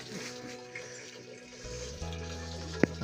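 A village water tap in Darjeeling running, a quiet gurgle and trickle that grows stronger partway through, with one sharp knock near the end.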